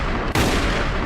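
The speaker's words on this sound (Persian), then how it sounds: "ناصر دیوان امر به شلیک داد." Sudden loud eruption of battle gunfire on the Arzhan plain, riflemen firing on command against Indian troops and a British officer. It breaks in after a brief quieter lead-in and continues as dense, sustained volleys that fill the rest of the moment.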